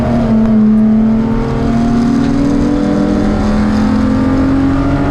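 Race cars including a Dodge Viper and a Porsche Cayman at Pitt Race give a loud, close, sustained engine roar with a steady high tone that rises slightly as they accelerate.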